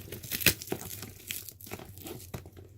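Saran wrap being peeled away from a mascot head pattern, giving irregular crinkling and tearing plastic sounds in short bursts, close and moderately loud, with no voices.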